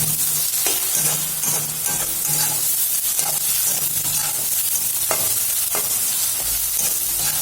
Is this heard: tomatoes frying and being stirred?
yes